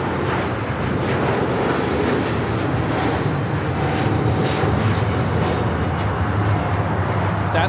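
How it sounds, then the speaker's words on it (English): An Air Premia Boeing 787-9 Dreamliner takes off at LAX, its jet engines producing a sustained loud roar with deep rumbling that holds steady across the takeoff run. "That is Air Premia 102 taking off to Seoul on the 787-9 Dreamliner"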